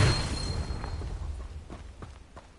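A Confringo spell blast from Hogwarts Legacy: a single deep explosive boom at the start that rolls off and fades, followed by faint scattered crackles.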